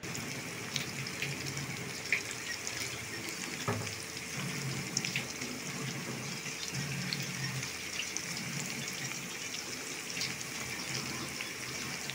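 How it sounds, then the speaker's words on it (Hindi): Tap water running steadily over vegetables being washed in a kitchen sink, a soft continuous gush with small splashes and clinks, fairly quiet, with no talking. "पहले तो सब्ज़ी धो लूँ।"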